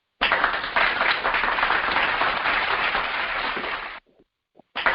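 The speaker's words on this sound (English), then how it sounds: "Let me give you a round of applause." Loud, steady applause from an audience fills about four seconds before cutting off abruptly, followed by a brief faint sound and a second burst of clapping at the very end.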